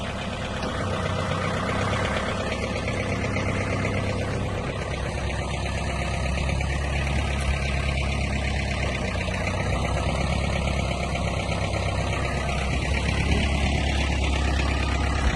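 A Mitsubishi MT30 30-horsepower compact diesel tractor engine idles steadily nearby, a continuous low rumbling drone with a faint rattling knock throughout.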